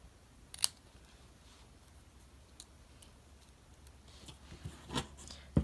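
Scissors cut the end of a fabric pennant in a few separate crisp snips spread over several seconds, close and fairly quiet, with soft handling rustle between the cuts.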